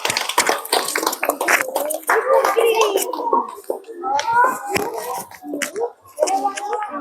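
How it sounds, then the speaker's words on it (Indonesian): Children clap their hands in a classroom activity, scattered sharp claps in uneven bursts mixed with kids' chatter and talking throughout. "Oke, tepuk tangan betul ya."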